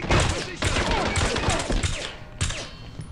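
Shotgun fire and chaotic combat in the 007 Blood Stone video game, loud, dense blasts and thuds in rapid succession that fill the space, with a brief pause before another burst near the end.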